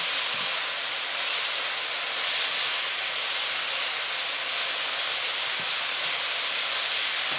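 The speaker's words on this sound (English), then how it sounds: "Let's take off the cover. Stir everything around." Vegetables for black pepper steak hiss loudly in a hot pan, a dense steady steam-like sizzle heard up close with a couple of faint knocks and no talk.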